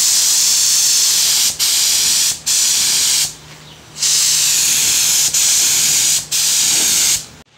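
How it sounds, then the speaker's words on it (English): Spray gun applying mixed clear coat to a Honda CRX brake caliper: several loud, steady hissing bursts of a few seconds each, separated by short pauses, with no talking. "I mixed up some clear coat. I'm just gonna go ahead and"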